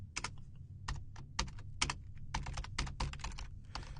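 Steady typing of C# code on a computer keyboard, close and clear, with rapid clusters of keystrokes and short pauses between bursts, no voices.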